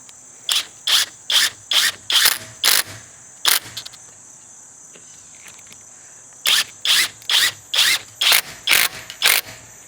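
Drive screws, 4 inches long, power-driven into overlapping deck boards at a lap joint, heard as two bursts of rapid rhythmic buzzing pulses, about eight short whirring bursts each, close and loud with a gap of quiet between them.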